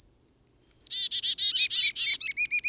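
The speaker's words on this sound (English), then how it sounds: "Because it really sounds like you've got birds." Recorded bird song plays from an iOS app, with a few short high chirps that give way to a fast, busy trill of tweeting calls, clear and fairly loud against silence.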